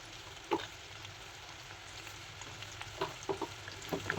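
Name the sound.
green chili, coconut and garlic paste frying in pan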